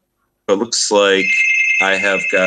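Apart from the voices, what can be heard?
loud doorbell ringing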